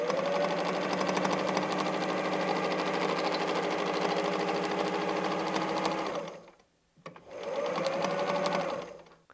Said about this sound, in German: Und um unser Zickzack herum nähen wir einen Kreis.